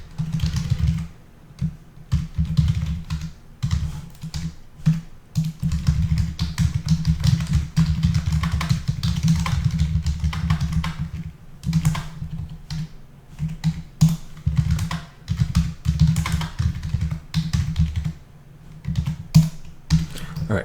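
Fast, continuous clicking of a computer keyboard as Java code is typed, close-miked and dense, with short pauses between bursts of keystrokes.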